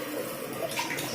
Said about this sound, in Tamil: தேவையான அளவு தண்ணி ஊற்றுறோம்.